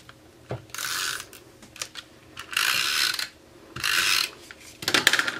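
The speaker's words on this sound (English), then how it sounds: "put some adhesive on that. And I'm just using Tombow double-sided tape" A Tombow double-sided tape runner rolls adhesive onto card in several short, close, ratcheting bursts separated by brief pauses, with no talking.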